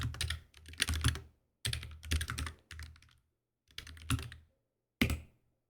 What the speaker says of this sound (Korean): 프로젝트를 구성하기 위해서 터미널을 열고 다음처럼 입력합니다